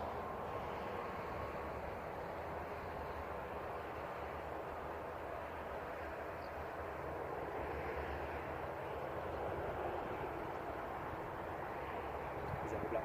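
Dash 8 turboprop airplane taking off at Christchurch Airport, heard as a steady, fairly distant broadband engine roar that swells slightly toward the end.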